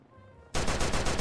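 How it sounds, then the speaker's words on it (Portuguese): In the video game The Perfect Heist, a burst of loud gunfire breaks out suddenly after a quiet moment, with rapid repeated shots that sound close. "Alguém deu tiro?"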